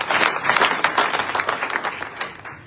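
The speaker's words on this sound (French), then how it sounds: "Acclamons pour la gloire de Dieu pour m'encourager." A church congregation applauding, dense brisk clapping from many hands at moderate distance, steady for a couple of seconds then thinning out at the end.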